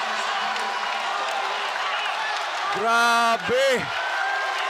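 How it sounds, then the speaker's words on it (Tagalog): Crowd at a Delta Cup basketball game in Angeles City erupting after a three-point shot, a broad roar under an excited commentator, with loud whooping yells rising near the end. "And look at the crowd here erupt."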